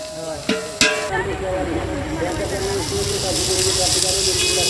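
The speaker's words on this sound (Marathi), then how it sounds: "कांदा सगळ्यात पहिल्यांदा टाकून घेतलाय लाल करून घ्यायचं ना कांदा" Onions frying in oil in a large pot for a mutton feast, a steady sizzling hiss that grows gradually louder after a couple of sharp clanks at the start.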